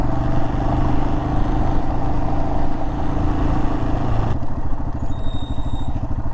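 Motorcycle being ridden on a Texas road: a close, steady engine drone that shifts partway through into a lower, throbbing pulse with faint high whines, with no talking.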